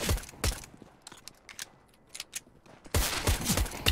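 Gunfire during a competitive video game match, with scattered sharp shots at a moderate distance, then a denser cluster of rapid shots near the end.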